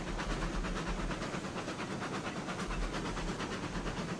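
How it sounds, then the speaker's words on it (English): A steam locomotive runs in the railroad game RailRoads Online, its rhythmic chuffing and hissing steady and close, with low rumbling wheels beneath and no talk over it. "So I'm liking this locomotive the more and more I mess with it"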